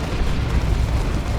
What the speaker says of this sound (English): There's a shotgun blast on the Nob squad.